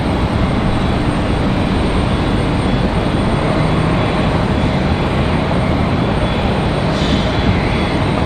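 Air Canada Boeing 737 MAX 8 jet airliner at Raleigh-Durham airport, a loud, steady broadband engine roar that holds constant throughout without clear rise or fall.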